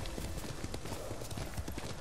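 Horse hooves clip-clopping at a riding pace in the video game Ghost of Tsushima, a dense, rapid thudding rhythm over a loud, full ambient game soundscape.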